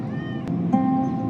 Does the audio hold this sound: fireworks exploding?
no